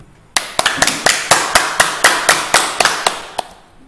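Rhythmic hand claps, about a dozen sharp even beats in a steady tempo, loud and close with no talk over them, set in a junior high school maths lesson.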